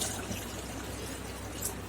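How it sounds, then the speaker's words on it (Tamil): Water is poured into a pot of chicken that is being made into rice, giving a steady close trickling pour with no talk. "அது ஒரு 1 டம்ளர் தண்ணி ஊற்றிருக்கேன்"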